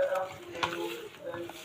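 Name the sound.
stirring cauliflower batter of flour and milk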